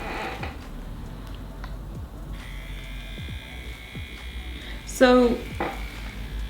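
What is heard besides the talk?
Dermapen microneedling device buzzing on skin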